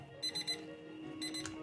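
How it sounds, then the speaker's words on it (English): An alarm clock going off in a livestream of The Sims 4, two bursts of three rapid high beeps, faint and electronic over a low background hum. "All right, that was the alarm."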